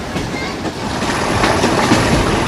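The 11UP Hazara Express rolls along the rails between Rawalpindi and Haripur in Pakistan, a loud, close, continuous rumble with rhythmic clickety-clack of wheels over rail joints.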